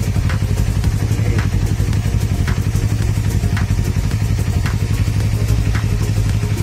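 A Yamaha MT-03 motorcycle engine fitted with a Yoshimura R11 exhaust muffler idles close by, producing a loud, deep, steady burble with a rapid pulsing rhythm and light mechanical clatter.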